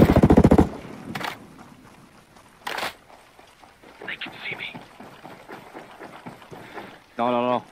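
Automatic gunfire from the video game Ghost Recon Breakpoint opens with a rapid, loud burst, followed later by a second short burst. Talking carries on in between, and a final electronic-sounding tone closes the stretch.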